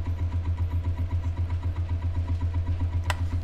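A simple beginner pulse motor runs under load at around 500 RPM, giving a steady, even pulsing hum with a regular rhythm, close and alone, plus one brief sharp click near the end.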